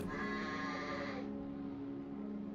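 A voice imitates a sheep, giving one drawn-out, quavering bleat that lasts about a second before fading into quiet background hum.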